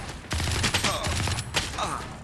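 Short bursts of automatic gunfire in Valorant, with a few rapid clusters of shots separated by brief pauses, loud and close with game effects under them.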